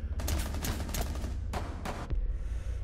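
Rapid bursts of automatic gunfire in Rainbow Six Siege, several loud chattering volleys in quick succession with short gaps, close and dominant.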